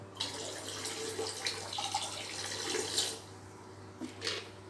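AB Mix nutrient solution is poured into a container, producing a close, steady watery trickle and splash that swells and then tapers off, with a faint background hum and no speech.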